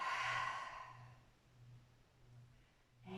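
A deep, audible exhale during a breathing exercise, a long breathy rush that fades over a second or so, followed by quiet room tone and a soft intake at the end.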